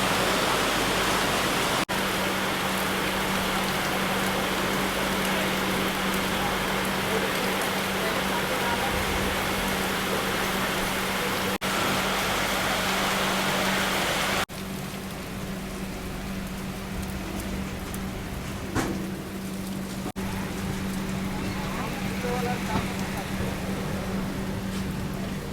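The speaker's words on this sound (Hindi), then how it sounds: "पानी तो देखो क्या शानदार बरस रहा है एकदम।" Heavy monsoon rain pours steadily at Dhanbad Junction railway station, a dense continuous hiss throughout with a low steady hum underneath, easing slightly partway through.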